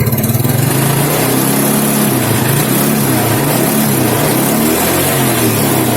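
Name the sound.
engine revving while testing charging voltage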